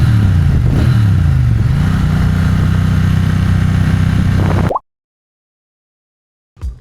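A Triumph Bonneville T120 motorcycle engine rumbles steadily at idle and revs slightly, then cuts off abruptly, leaving silence before a brief faint sound at the end.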